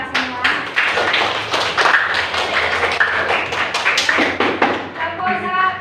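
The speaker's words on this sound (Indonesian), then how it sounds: "Tepuk tangan untuk kita semua." A school class clapping hands together, quick rhythmic claps in bursts, close and fairly loud, mixed with voices talking.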